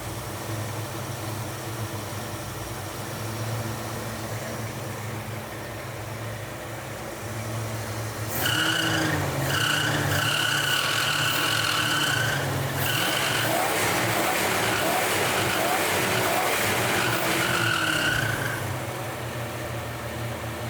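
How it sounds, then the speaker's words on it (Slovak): Engine of a repaired Ford Mustang limousine, idling steadily at first, then revved several times in quick rising and falling bursts, loud and close, with no one talking. "Hráme sa ešte s otáčkami trošičku."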